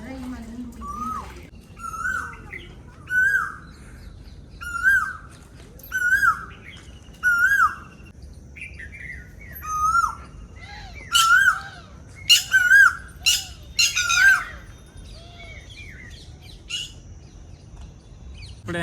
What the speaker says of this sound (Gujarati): બાજુ કોયલ તવકા કરે છે